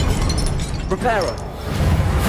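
Reparo repair spell from Hogwarts Legacy: a brief glassy shimmering chime with a rising sparkle, heard over low background game ambience.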